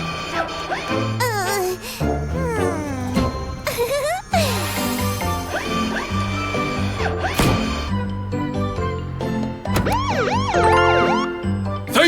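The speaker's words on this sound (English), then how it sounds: "No, the siren must flash." Cartoon police monster truck siren in a children's animated rescue story, rising and falling wails repeated over bouncy music, loud and continuous with chimes and occasional character voices mixed in.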